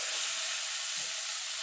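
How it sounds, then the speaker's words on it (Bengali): Pieces of eggplant seasoned with salt and turmeric fry in hot oil with a steady, even sizzle and hiss, heard close and without any talking. "একটু নুন হলুদ দিয়ে আমি বেগুনগুলোকে ভেজে তুলে নেব।"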